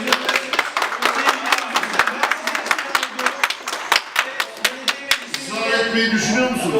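Rhythmic, evenly spaced claps from spectators in a municipal council chamber, sharp and fairly close, a steady series of beats that gives way to talking near the end.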